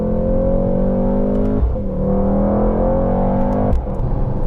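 Mercedes-AMG GT 63S engine growling under acceleration from inside the car, a loud, steady rising drone that drops briefly at two gear shifts before climbing again.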